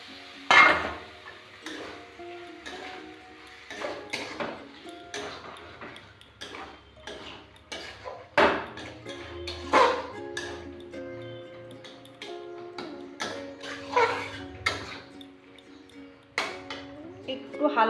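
Bombay duck fish goes into a pan of cooked-down curry masala and gets stirred, with repeated clinks and scrapes of a utensil against the metal pan, some sharp taps and pings, and someone talking at intervals.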